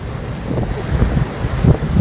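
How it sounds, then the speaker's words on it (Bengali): Rough sea surges at high tide in rain and strong wind, giving a loud, continuous low roar with wind buffeting the microphone throughout. "মানে এত উত্তাল এত ঢেউ বৃষ্টির মধ্যে"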